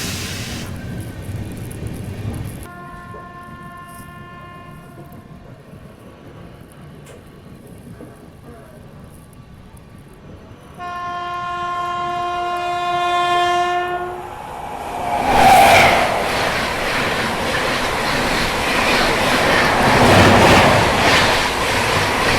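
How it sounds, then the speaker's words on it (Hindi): The Vikramshila Express passing in the opposite direction on a Delhi–Bhagalpur route: a long, loud two-tone horn blast sounds twice, followed by the close roar and rushing rumble of the oncoming train sweeping past. "सामने से आ रही है विक्रमशिला एक्सप्रेस।"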